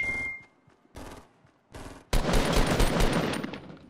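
Gunfire in Fortnite Battle Royale: a few separate shots first, then a sustained, loud burst of rapid automatic fire.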